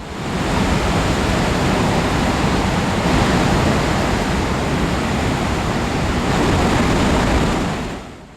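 Floodwater in Sikkim roars as a loud, continuous torrent, a dense surf-like rush that stays steady and close, then trails off at the very end.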